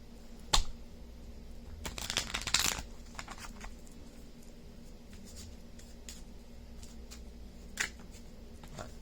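Quick rustling flicks of tarot cards being shuffled, a brief burst of riffling near the start with sparse soft taps afterward, close and quiet.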